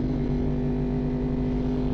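Close, loud and continuous engine drone from a 38-year-old Honda VFR 750 motorcycle, steady and humming with layered low tones, heard alone without talk.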